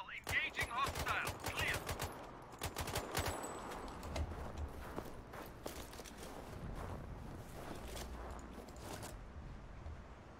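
Gunfire in the video game Sniper Ghost Warrior Contracts, a burst of rapid loud shots up front followed by scattered single cracks over a steady rumbling game backdrop.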